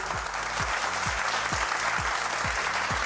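Audience applause rolls on as a dense, even wash of clapping, with a regular pulse of low thuds running beneath it.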